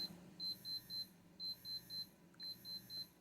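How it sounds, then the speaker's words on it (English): A LEAP TF6204 interval timer sounds its end-of-interval alert: three sets of three short, high electronic beeps in a steady rhythm, loud and close over a faint low background hum. "I'm wondering if the beep,"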